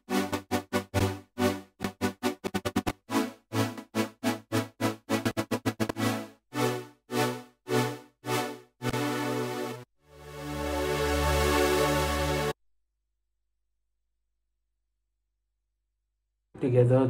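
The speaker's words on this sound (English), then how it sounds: "that's what I use to make that wobble sound" Synth wobble from an automated LFO rate knob, heard alone as rhythmic pulsing chords that quicken, then give way to a sustained swelling tone before a pause and a brief return.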